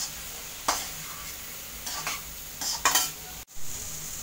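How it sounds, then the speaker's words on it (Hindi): Chopped carrots and bell peppers cook in a pan for poha, sizzling gently and steadily while a spoon stirs them in several short scraping bursts, all close and with no talking. "अब हम सब्जियों को सॉफ्ट होने तक पकाएंगे।"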